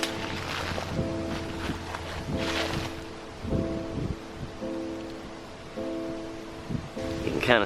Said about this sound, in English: It was a really windy day, so I apologize if the sound's a little bit off in this video.